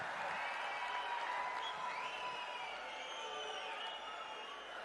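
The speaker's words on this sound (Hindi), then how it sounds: "जोरदार तालियों से स्वागत आदरणीय प्रधानमंत्री जी का।" A crowd at a public event welcoming India's Prime Minister applauds, producing a steady wash of clapping and cheering heard from a distance, with a faint whistle-like tone drifting over it.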